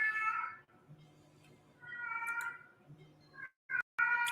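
A small pet cat meows indoors, three or four drawn-out cries with short pauses between them, fairly close and clear against a quiet room.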